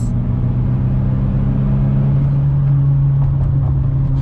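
Duramax diesel truck engine running loud and steady nearby, a constant low rumble with slight variation and no voices.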